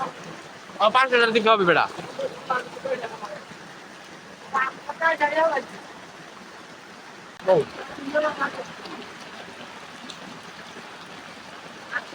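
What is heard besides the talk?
rain falling outdoors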